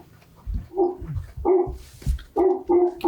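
A dog barks repeatedly indoors at a school district board meeting, a series of loud, close barks in an irregular rhythm with short pauses between them.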